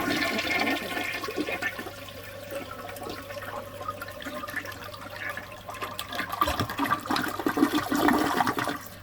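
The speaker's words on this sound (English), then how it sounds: "I'll conclude with one more flush of the Eljer Coral Blush" A 1954 Eljer Coral Blush Duplex toilet flushes up close, a loud rushing swirl of water draining and then refilling with a steady hiss, heard alone.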